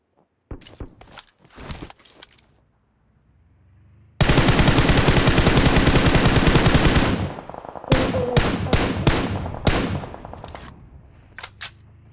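Rapid machine-gun fire in a video game battle against a tank: short bursts, then a long sustained stream of loud close gunfire, followed by more choppy bursts, with no talk.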